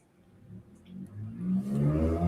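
Car fitted with an aftermarket exhaust revving up, a low rumbling engine note that builds steadily louder and closer over a couple of seconds.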